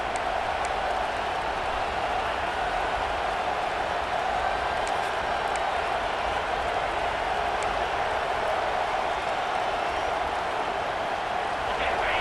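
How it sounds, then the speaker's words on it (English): Florida versus Ohio State football game stadium crowd produces a broad, continuous roar of noise, steady and moderately loud throughout, with scattered cheers and a voice faint under the din. "This crowd bringing the energy and noise early."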